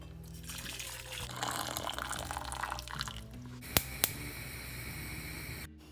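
Tap water runs steadily into a cooking pan in a home kitchen, a continuous close splashing fill that shifts in pitch as it fills, ending with two sharp clicks.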